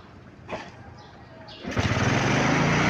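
A Euro Keeway 125 motorcycle with a grounded regulator, run from battery power, cranks briefly, then its small single-cylinder engine catches and settles into a steady, close, buzzing idle.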